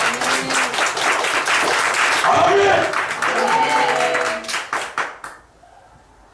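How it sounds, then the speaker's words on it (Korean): A church congregation claps during a Sunday service, sustained applause mixed with voices calling out, tapering into scattered claps before stopping abruptly. "우리 살아계신 하나님 박수 쳐드리세요"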